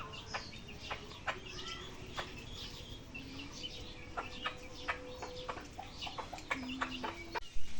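Chickens cluck and call in a rural yard, short repeated clucks and chirps scattered across a steady background hum, fairly near and moderately loud, with no talk.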